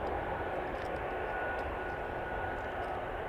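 A Porter airliner at Toronto Pearson Airport on a Christmas Day night gives off a steady, distant engine roar, a broad even rumble with no break across the moment.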